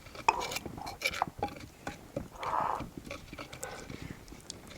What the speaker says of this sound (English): And then mix it together.